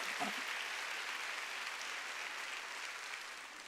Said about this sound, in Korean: 박수 치려면 세게 쳐야 됩니다